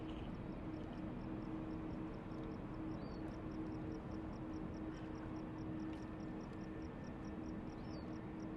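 A Boeing 787 at Sydney Airport gives a steady, distant jet roar that holds evenly throughout, with a faint whine on top and no voices.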